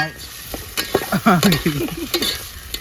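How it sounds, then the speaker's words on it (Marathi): A tempering sizzles in oil over an outdoor wood-fired chulha beside a dam, with a steady hiss and sharp crackles, overlaid by tonal, voice-like sounds from people nearby. "फोडणी टाकली आता"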